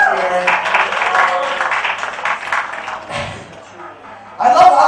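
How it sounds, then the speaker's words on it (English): Comedy club audience clapping in a sustained round of applause, fairly close and lively, thinning out before a fresh burst near the end. "Another round of applause for Halloween."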